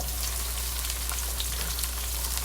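Peppers and onions frying in a pan with oil, a steady, dense sizzle held at constant loudness throughout, close and uninterrupted, with no voices.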